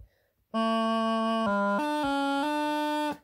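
A bagpipe practice chanter plays a steady reedy D, briefly drops to C, then jumps back up and shifts between two close pitches in a short melodic ornament.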